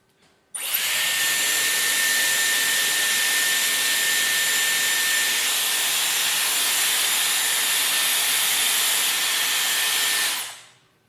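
A Dyson Airwrap hair styler blows steadily and loudly for about ten seconds while curling a section of hair, a continuous airy roar with a faint high whine, starting and stopping abruptly.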